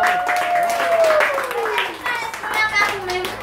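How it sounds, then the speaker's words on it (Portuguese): A capoeira group claps a round of applause, crisp hand claps in a lively burst mixed with children's voices and a sliding vocal call, close and fairly loud. "Salva de palmas."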